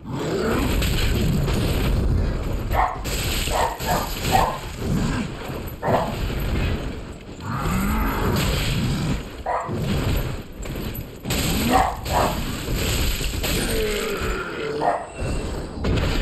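A dog barks repeatedly indoors, with short gruff barks mixed into loud, busy action-game audio playing throughout; no one speaks.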